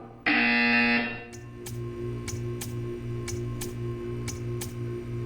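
A loud electronic buzzer in the video game Portal 2 blares for about a second, then a steady hum continues with regular sharp ticks roughly every half second.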